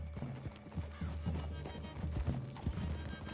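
Horse hooves clip-clop at a steady walking pace in the video game Red Dead Redemption II, fairly close, with a faint whinny and low background ambience.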